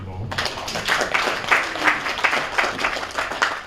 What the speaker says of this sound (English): I think he deserves a louder applause.